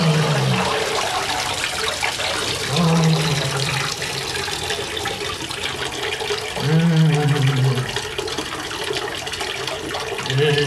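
A tap in a washroom runs steadily into a basin, a close rushing flow with surging gurgles as water splashes over someone's head, brief voices mixed in.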